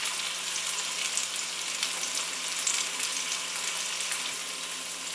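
Potatoes and broad beans sizzle gently in a pan while being stirred, a steady soft hiss of frying close by with faint scraping, no voices.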